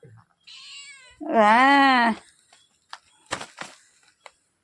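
A cat meows loudly and insistently up close in a home kitchen, calling to be given fish, with one long drawn-out cry followed by a few short sharp sounds and quiet gaps.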